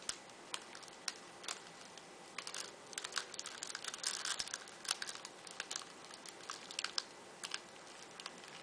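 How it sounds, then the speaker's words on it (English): Paper being shifted and crinkled while wrapping a homemade Valentine's lollipop soap, producing a steady run of close, light crackles and sharp rustling ticks with no talking. "just kind of like move the paper around and get it how you want it"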